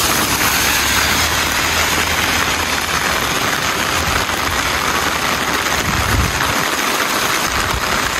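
Steady heavy rain hisses loudly and continuously on a street near a bus stop while a vehicle engine idles with a low rumble underneath.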